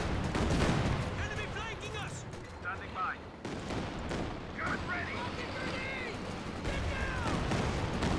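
Katyusha rocket artillery fires in the strategy game Company of Heroes 2. Booming launches and blasts build into a dense, continuous barrage over battlefield noise, with a voice talking over it.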